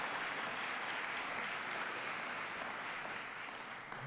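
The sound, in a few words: audience applause at hall of fame ceremony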